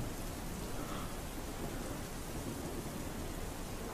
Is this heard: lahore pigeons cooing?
no